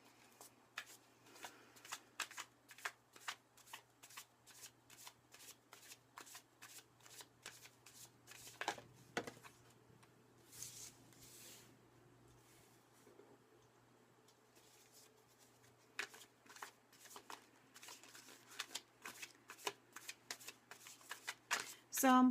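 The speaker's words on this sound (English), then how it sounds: "I'm just going to keep tuning in while I shuffle these cards" Tarot cards being shuffled close by, a quiet run of crisp riffles and flicks in uneven bursts with short pauses between them.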